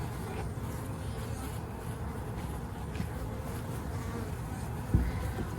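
Honeybees buzzing around an open hive frame heavy with nectar during a Demaree swarm-control inspection, a steady low drone of many bees close by, with a brief knock near the end.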